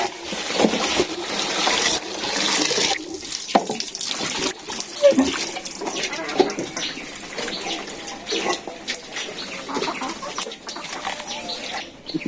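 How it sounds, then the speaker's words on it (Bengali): Something being rinsed and washed in water in a Bangladeshi village home, splashing and trickling water with clinks and rubbing, close by, while a rooster and other fowl call and a voice speaks briefly in the background. "এই ধুয়ে নিতেছি।"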